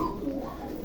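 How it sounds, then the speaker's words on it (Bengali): Bashiraj pigeons coo in a low, soft, throaty call, close by, lasting under a second against a quiet background. "Original tiger বাসিরাজ কুখা। তো দেখেন দর্শক কত সুন্দর করে ডাকাডাকি করছে মিটিং করার জন্য"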